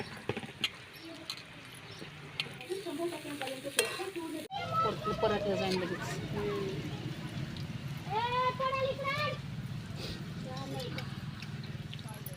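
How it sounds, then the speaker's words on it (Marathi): Oil sizzles and crackles steadily as onions fry for sambar tempering, a continuous hiss that starts partway through, with a person talking over it. "आता कांदा हा आपण गुलाबी रंग येईपर्यंत परतून घेणार आहोत"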